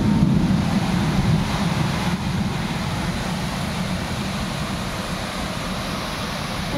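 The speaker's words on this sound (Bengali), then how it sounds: "খুব সুন্দর বৃষ্টি হচ্ছে, বিশাল বৃষ্টি হচ্ছে, সঙ্গে বিদ্যুৎ চমকাচ্ছে" Heavy rain pours down in a steady, dense hiss with a low rumbling undertone, loud and unbroken throughout with no voices; the accompanying lightning cannot be made out.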